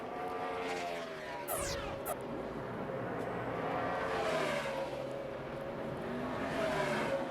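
NASCAR stock cars on the Phoenix racetrack during 2008 Sprint Cup practice: engines roar at a distance, with pitch rising and falling as cars pass, and brief sharper whines from passing cars.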